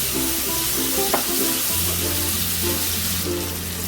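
Chopped tomato sizzles in hot oil in a pan for a prawn and taro-stolon curry, a steady close frying hiss with a spoon stirring through it and a low hum underneath.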